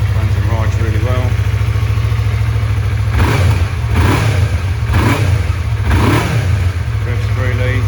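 A 2020 Yamaha MT-03 ABS motorcycle idles steadily, then its engine is revved in four quick blips close by, each rising and falling back to idle.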